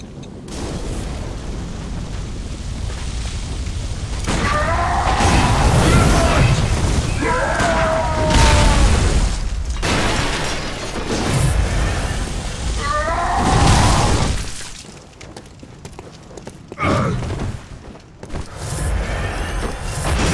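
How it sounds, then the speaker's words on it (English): Dynamite blasts in the video game Bloodborne come as loud rumbling booms within a dense, noisy game mix, with a voice talking over parts of it. "What's that? Dynamite?"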